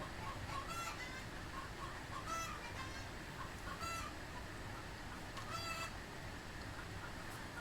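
Chickens in a coop clucking repeatedly in short bursts, with wire grilles fitted over the feed trays; several close, fairly loud calls rise over a steady background hum.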